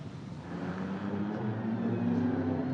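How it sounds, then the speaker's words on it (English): An Aston Martin race car engine growls steadily at a distance out of Lisboa corner at the Macau Grand Prix, its low droning note rising slightly in pitch as it pulls away. "Great noise from the Aston Martin as it growls its way out of Lisboa."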